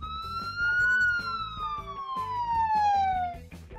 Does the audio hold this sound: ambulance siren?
yes